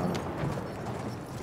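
Horse hooves gallop in the video game Battlefield 1, a brief, dense clip-clop thudding under the steady wash of battlefield noise.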